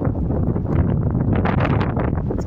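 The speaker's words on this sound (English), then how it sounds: "it's cold, it's windy," On a cold, snowy night walk with a dog under the moon, strong wind roars close against the microphone in dense, continuous buffeting gusts for a couple of seconds.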